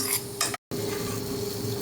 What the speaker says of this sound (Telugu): ఆవాలు, మినప్పప్పు, జీలకర్ర, ఇంగువ, వెల్లుల్లి వేసి ఎండుమిర్చితో పోపు వేసుకున్నాను, అది కలిపేస్తున్నాను